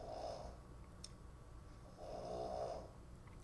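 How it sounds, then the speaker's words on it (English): A dog snores loudly in two long, rhythmic rasping breaths, close by and alone in a quiet room, ending with a brief sharp knock. "Dog is snoring loud today."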